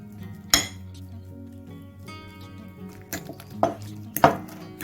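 A fork clinks and scrapes against a plate while mashing eggplant caviar, a few sharp separate metallic taps and clatters over a quiet background, with no talk.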